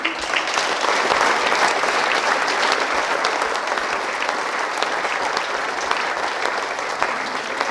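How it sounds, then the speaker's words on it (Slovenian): A concert hall audience at a summer wind orchestra concert gives sustained, loud applause for an accordion soloist, a thick uniform roar of clapping that holds evenly for several seconds without talk. "En aplavz prosim zanj."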